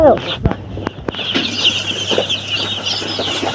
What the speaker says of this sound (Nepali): यो कस्तो चल्ला कराएको